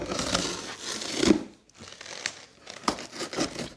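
Cardboard and plastic wrapping crinkle and tear while a Harbor Freight welding cart box is opened up, loud close rustling in uneven bursts with a brief pause in the middle.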